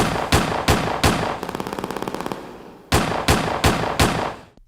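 Loud gunshots open a hip-hop diss track: three sharp blasts, then a quick rattling burst of rapid fire, then four more heavy single shots in an even rhythm, with no voices.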